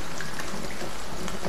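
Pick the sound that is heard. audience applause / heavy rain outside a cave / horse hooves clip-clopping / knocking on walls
heavy rain outside a cave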